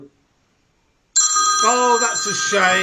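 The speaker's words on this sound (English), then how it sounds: "A shit video interrupted by a shit call" A telephone suddenly starts ringing after near silence, a loud, bright, continuous ring tone carrying on to the end while a voice talks over it.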